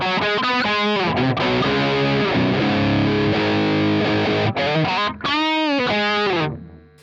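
An electric guitar played through an Audiority L12X plugin modeled on the Marshall Lead 12 amp rings out with distorted, gainy chords and sustained notes, alone and fairly loud, fading out at the end.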